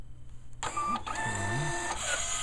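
A uniform label printer in a military-prison shop hums steadily while its feed motors whir and shift in pitch as material balances through the rollers, with a faint mechanical clack, close and unaccompanied by speech.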